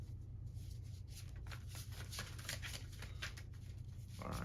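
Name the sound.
shuffling a deck of tarot cards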